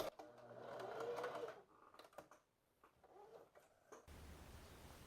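A sewing machine stitches elastic onto a pair of shorts, running in a fast steady burst for about a second and a half, then stopping for a short reverse backstitch with scattered mechanical clicks and a brief hum.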